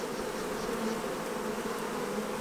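Honeybees buzz steadily around an open hive during colony splits, a dense, close, continuous hum with no talking.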